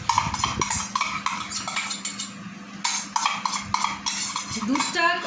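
Metal spoon stirring yogurt into thickened boiled milk in a cooking pot, with repeated close scraping and clinking strokes in a steady rhythm, continuing almost without pause throughout.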